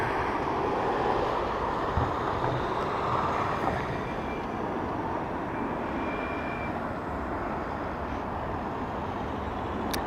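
A steady, broadband roar from a Ryanair airliner arriving from London passing at Dublin Airport fills the whole stretch, moderately loud and unchanging, with no speech over it.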